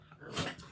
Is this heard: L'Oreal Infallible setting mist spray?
no